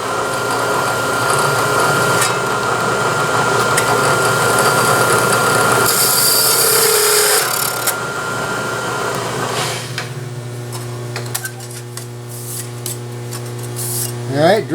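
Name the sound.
new sheet metal drill bit drilling a hole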